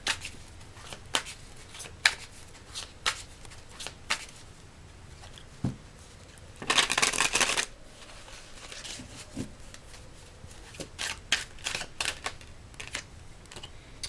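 A tarot deck being shuffled, scattered crisp card snaps and taps up close with one longer riffling burst in the middle, no speech.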